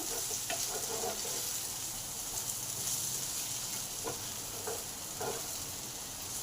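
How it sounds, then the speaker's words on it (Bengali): Chili and cumin powder frying with potatoes in a pan make a steady, dense sizzle throughout, with a few soft scraping stir strokes near the start and later on. No one speaks. "মশলাগুলো একটু কষে নিলাম"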